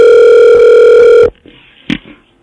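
A steady telephone tone with strong harmonics holds loud and unbroken on a line while a call is transferred, then cuts off abruptly, followed by faint line noise and a brief click.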